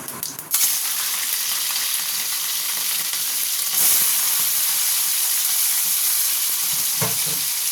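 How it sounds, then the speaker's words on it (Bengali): Prawns hit a hot pan tempered with white cumin seeds, raising a loud, sudden sizzle that settles into a strong, steady hiss of frying, close and uninterrupted, with a faint stir near the end. "এরপরে আমি চিংড়ি মাছটা দিয়ে দেবো"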